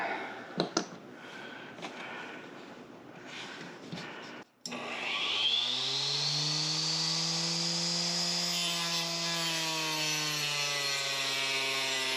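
Wood is cut to slice off small pieces for Notre Dame cufflinks: a few rough sawing strokes are followed by a power tool spinning up into a loud, steady, ringing whine that holds to the end.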